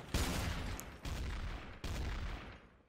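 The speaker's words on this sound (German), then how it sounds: "Oh, Kundran, jetzt brauchst du zwei Schüsse, ey." Three sharp gunshots ring out in the video game Trouble in Terrorist Town, each a loud blast followed by a lingering roar, spaced about a second apart.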